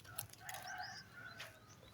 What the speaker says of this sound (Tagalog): Manok ah.